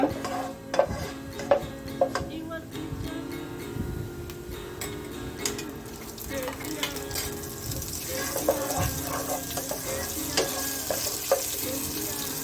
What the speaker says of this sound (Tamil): கொஞ்சம் கல்பாசி பூ, ஆட் பண்ணிட்டு இதை லைட்டாக ஃப்ரை பண்ணுங்க.